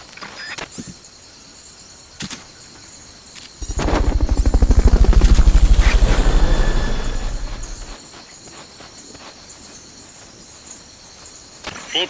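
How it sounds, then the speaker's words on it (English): A Fulton recovery helicopter in Metal Gear Solid: Peace Walker swells in with loud, fast rotor chopping that peaks midway and fades out. Scattered clicks, a steady insect-like drone and sharp game sound effects surround it. "Fulton recovery helicopter is complete."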